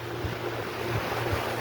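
Sea waves washing onto a quiet beach, a steady rushing wash with low rolling surges and some wind buffeting the microphone, no voices.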